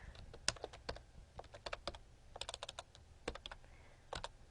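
Typing on a computer keyboard during a jQuery coding lesson, a ragged, uneven series of close key clicks in irregular bursts, with no talking.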